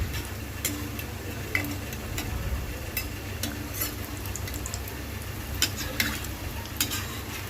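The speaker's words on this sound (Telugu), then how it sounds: "మనం గరిట పెట్టుకొని తిప్పుకోవాలి" Cowpea fritters frying in hot oil with a steady close sizzle, while a ladle turns them, adding scattered light scraping clicks throughout.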